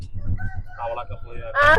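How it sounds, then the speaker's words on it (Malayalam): A rooster crows briefly at the end, close by, after a moment of voices and background noise. "കോഴി കൂവുന്ന"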